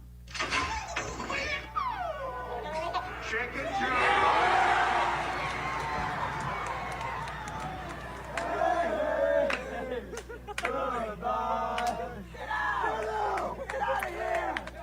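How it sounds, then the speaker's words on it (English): A theater crowd mocks people being removed, shouting, jeering and whooping in a chaotic swell of overlapping voices that rises to a loud roar mid-way, then breaks into scattered yells and laughter. "Here's a recording of the chaos when the crowd was mocking those being removed from theater too."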